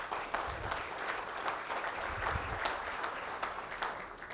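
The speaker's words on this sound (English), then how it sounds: "So I want to give you a hand clap for the work that you're doing here in your own region" An audience at a small business award event claps in a warm, continuous round of applause, heard from a moderate distance.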